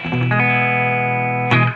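A Gibson copy electric guitar played straight into a Fender '65 Deluxe Reverb reissue amp with no reverb or pedals rings out as a loud sustained chord, freshly re-struck near the end, clean and dry.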